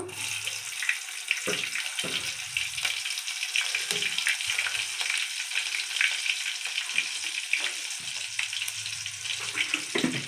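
Onion pieces sputter and crackle steadily in hot tempering oil, with a constant hiss and brief bursts of louder popping.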